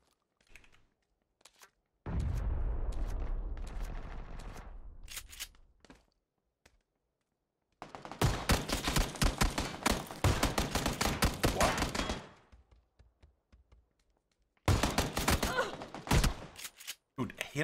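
Bursts of rapid gunfire in a PUBG match, with a long loud burst early on and dense crackling volleys in the middle and at the end, separated by quiet gaps.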